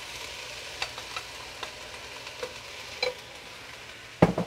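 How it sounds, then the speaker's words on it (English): Frozen green beans in a warm pan: soft steady sizzle with scattered light taps and scrapes, quiet and close, ending in a sharper clatter, no voices. "So I'm gonna put them in my nice warm pan."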